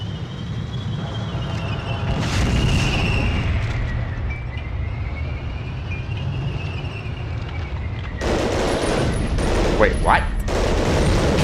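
Rocket blasts and gunfire from the Medal of Honor Underground video game, rumbling bursts under a steady hum, with a sharp crackling barrage near the end and a player's brief voice.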